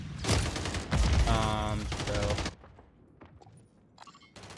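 Burst of automatic gunfire from the Jak Protean aftermarket weapon in Call of Duty: Modern Warfare 3, loud rapid shots for about two and a half seconds, then quieter scattered game sounds.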